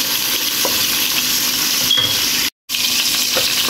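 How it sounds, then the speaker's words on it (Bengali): Prawns sizzle in hot oil in a pan, a steady broadband frying hiss with soft stirring scrapes, cut by a brief moment of silence partway through. "চিংড়ি মাছ দেওয়ার পরে বেশ কিছুক্ষণ ভেজে নেব।"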